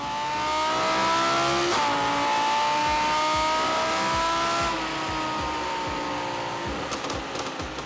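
An Audi R8 with a naturally aspirated V10 revs hard, its high-pitched wail climbing and holding, dropping briefly between shifts, then easing back to a lighter rumble with a few sharp pops near the end.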